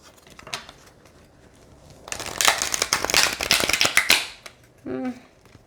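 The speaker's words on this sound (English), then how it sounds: "let's go ahead and see how they shuffle" A thin, glossy tarot card deck is riffled and shuffled by hand, a dense burst of crisp flicking and slapping cards in the middle after a few light taps, with a short voice sound near the end.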